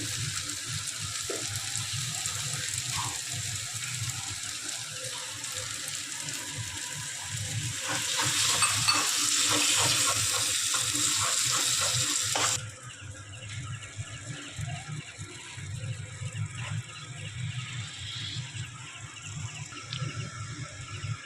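Masala sizzles steadily in a pan for a lasuni mathe dish after a splash of water, a continuous close hiss that swells louder for several seconds midway before settling back into a softer frying crackle, with no one speaking.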